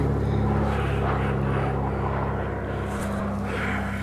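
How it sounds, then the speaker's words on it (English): A propeller airplane drones overhead with a steady, low engine hum that holds evenly throughout, fairly close and continuous, with no voices over it. "Look at the plane."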